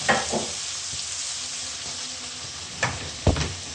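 Onions sizzle gently in a pan over low heat while cooking a dahi chicken dish, a steady soft frying hiss with a few louder stirring clatters near the end.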